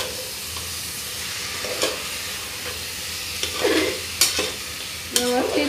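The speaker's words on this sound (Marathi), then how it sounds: "व्यवस्थित तेलात थोडा वेळ यांना फ्राय करायचं आहे।" Vegetables for veg pulao fry and sizzle in hot oil, with steady close sizzling and several sharp scraping stirs of a spoon against the pan.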